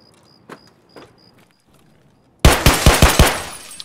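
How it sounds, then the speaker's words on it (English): Gunfire in Escape From Tarkov, an SA-58 rifle, opens with two faint distant shots, then after a pause a loud close burst of rapid automatic fire, about six cracking rounds in quick succession. "I just killed one of Vershala's guards"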